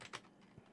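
Typing on a computer keyboard at an MS-DOS PC, a quick cluster of key clicks near the start and a softer tap later, close and fairly faint against low room noise.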